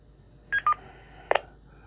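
Right after a push-to-talk keyup, a ClearNode radio node replies with two short beeping tones, then a brief click, faint over low background hiss.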